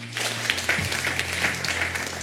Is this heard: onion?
no